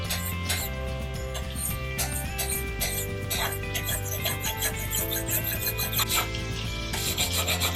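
Steel file rasping along the bit of a Gränsfors Bruks small forest axe to remove a nick, repeated scraping strokes in a steady rhythm, close and fairly loud.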